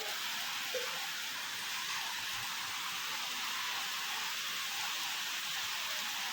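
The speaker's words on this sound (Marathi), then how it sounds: "आता खूप दिवसातून पाऊस आला जोरजोरात पाऊस येत आहे" Heavy rain pours down in a steady, dense hiss that stays even and unbroken throughout, with no voices or other sounds standing out above it.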